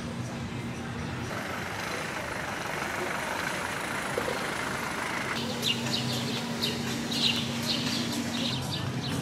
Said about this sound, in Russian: тут какого-то хрена очень много машин